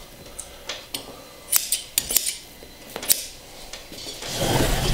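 Scissors trimming upholstery material on a saddle seat being converted from springs to foam, a quick series of sharp snipping cuts and rustling fabric ending in a louder scrape, close and without speech.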